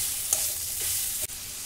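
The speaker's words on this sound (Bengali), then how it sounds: "সব কিছু মশলা দিয়ে ভালো করে আরও একবার আমি কষে নেব।" Ground spices including Kashmiri chilli, coriander and cumin are stirred and fried in a pan for Bengali-style ghugni, a continuous close sizzle with a couple of brief scraping stirs.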